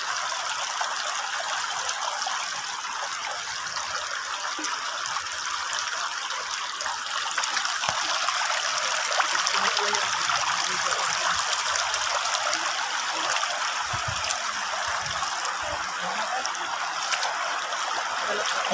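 River water flowing steadily beside a bathing spot dug into the riverbank, a continuous rushing and trickling wash that stays even throughout, with a few low knocks underneath.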